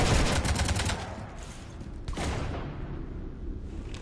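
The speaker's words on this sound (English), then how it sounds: "You want to stop shooting up my ship?" Gunfire in the Mass Effect 3 video game as a ship gets shot up, a dense rolling burst of shots and booms that eases into a lower rumble, with a sharp blast midway.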